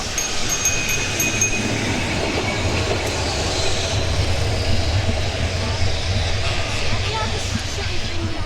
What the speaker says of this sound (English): All these trams are packed to the rafters.